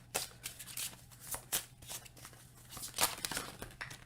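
A deck of oracle cards is shuffled by hand close up, crisp papery riffles and flicks repeating in quick uneven bursts over a faint low hum.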